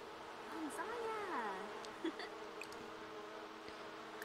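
Bees in The Sims 4 video game give a faint, steady buzz under game music with wavering melodic tones and occasional soft clicks, with no talking.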